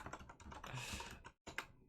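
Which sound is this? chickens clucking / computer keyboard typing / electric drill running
computer keyboard typing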